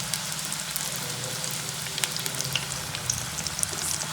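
Paneer corn samosas fry in a pan of oil over a medium flame, giving off a steady, close crackling sizzle with scattered sharp pops throughout, and no voices.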